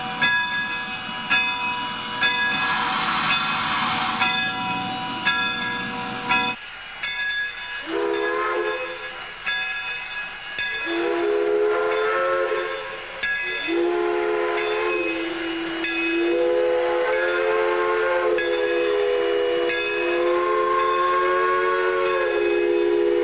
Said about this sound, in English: let's climb aboard and enjoy the ride with the L&N 152 as she goes steaming in 93 from New Haven to Boston on the Kentucky Railway Museum